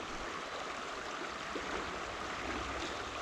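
The Goulburn River flows past around waist-deep water in a steady, broad rush that stays even and close the whole time, with no voices.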